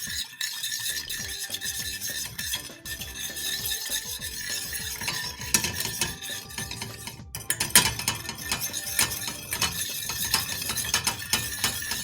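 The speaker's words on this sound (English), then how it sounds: "Just gonna stir this up a bit" Okonomiyaki batter is stirred briskly in a bowl, a steady close scraping and swishing with utensil rubs that carries on without pause, with no talking.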